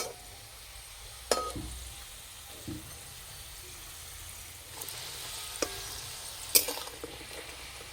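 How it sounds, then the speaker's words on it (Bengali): Crispy potato rolls fry in a pan with a quiet, steady sizzle, punctuated by a few sharp clicks and taps of a utensil against the pan. "রোলগুলো ভেজে নেব।"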